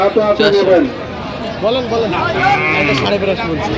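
Goats bleat at a busy livestock market where cattle and goats are being led out, the cries loud and close over the steady murmur of the crowd. People talk throughout.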